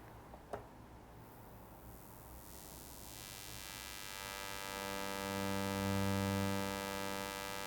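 Synthesizer tone run through a high-pass filter, a steady buzzing hum with many stacked harmonics that swells in loudness toward the end after a brief click near the start.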